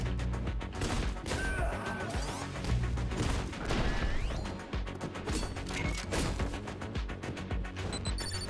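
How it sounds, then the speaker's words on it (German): Loud, busy action in the video game Katana Zero, with repeated sharp gunshot cracks and clattering impacts over a rumbling background, no talking. "der Schuss von dem alarmiert auch noch andere"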